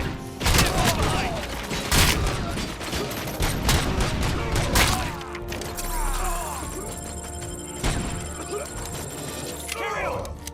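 Gunfire in the RoboCop Rogue City game crackles in rapid bursts and heavy booms, with mechanical clanks and shouting voices over the fusillade.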